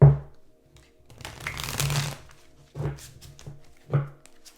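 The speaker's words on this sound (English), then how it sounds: "Three shuffles for Taurus." Tarot cards are shuffled close up in three separate bursts of riffling and soft thumps, with short quiet gaps between them.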